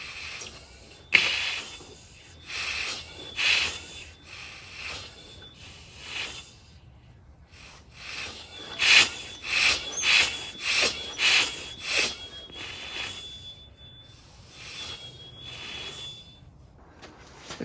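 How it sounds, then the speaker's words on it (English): Mazda 13B rotary engine rotated by hand with a 19mm socket makes repeated rhythmic chuffing and scraping swishes in uneven bursts, with a faint high-pitched metallic whine running through parts of the turning. "I'll rotate, you can listen for chuffing and scraping."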